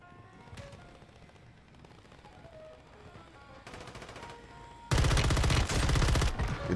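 RAM-9 submachine gun fire in Warzone 3: quieter scattered shots and a short rapid burst early on, then a loud, sustained full-auto stream near the close, alone without talk.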